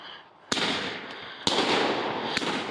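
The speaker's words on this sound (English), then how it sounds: "It's big time Donald Trump 16 shots firework, 4th of July, right there." A 16-shot firework cake going off for the 4th of July outdoors, three sharp explosive bangs spaced about a second apart, each followed by loud crackling and hissing sparkle that fills the gaps.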